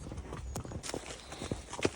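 Horse hooves clip-clop at a steady walk along a bridle path while out hacking, a quiet, even rhythm of several hoof strikes heard alone.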